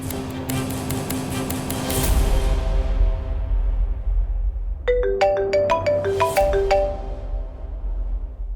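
A phone's melodic ringtone sounds while a call is being placed in a French-dubbed drama series: loud, bright chiming notes in a repeating pattern that fade, then return as a quick rising run of tones. The phone is close and heard alone.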